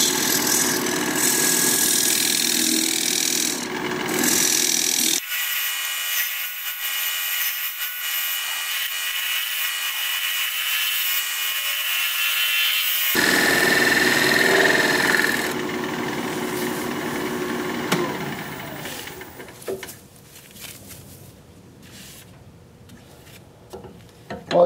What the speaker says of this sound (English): I have a dovetail chisel to put that dovetail on the inside of that recess.